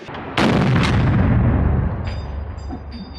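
A single loud rifle shot cracks at an outdoor shooting range, followed by a long rolling echo that fades over a few seconds.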